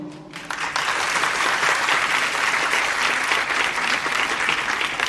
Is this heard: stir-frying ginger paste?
no